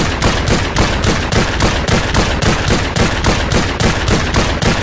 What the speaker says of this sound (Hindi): New shotgun AA12 AA12,